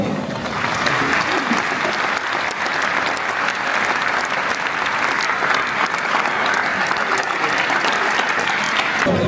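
A stadium crowd at a Stade Brestois 29 football match in Brest applauds steadily for a long stretch, a dense, even wash of many hands clapping that stays constant and fairly loud throughout.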